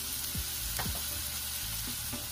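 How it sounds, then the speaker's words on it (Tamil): Onions and spices, including turmeric, cumin, chili powder and garam masala, fry in hot oil for soya chunks, giving a loud, close, continuous sizzle with a few quick stirring scrapes, no talking. "இது எல்லாமே சேர்த்து நல்லா எண்ணெயில வறுத்துருங்க"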